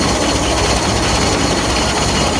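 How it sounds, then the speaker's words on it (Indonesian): Cold-running three-cylinder turbo engine of a Daihatsu Charade under restoration, a steady loud rough drone heard close up with no talking. "khasnya 3 silinder mesin dingin, mesinnya goyang"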